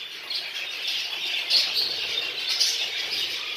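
Texas-type budgerigars, jumbo and crested show birds, chirp and twitter together in a breeding room, a steady dense chorus of small bird calls with faint wing flutters and no talking.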